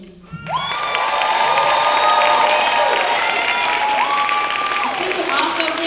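Class of 2024 graduation audience bursting into loud cheering, whoops and applause after a brief quiet start, shouting crowd building and staying loud throughout.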